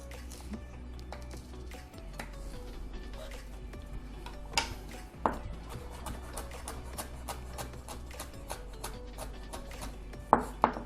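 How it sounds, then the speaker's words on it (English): A knife chopping a Scotch bonnet pepper on a board gives light, fairly regular taps, with a few sharper knocks near the end, under a steady low background hum. "when you're done cutting up the Scotch bonnet"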